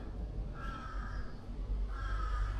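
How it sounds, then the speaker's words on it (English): Crows caw outside a hotel in Bangkok, two drawn-out harsh calls about a second apart heard over a low rumble of city background, moderately distant. "the birds whistling, the crows cawing."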